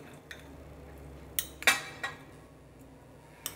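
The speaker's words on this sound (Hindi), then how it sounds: "दही को भी मैंने अच्छे से मिक्स कर लिया।" A spoon scraping and clinking against a bowl while stirring yogurt into ginger garlic paste, a few sharp metallic taps and clinks over quiet background, close by.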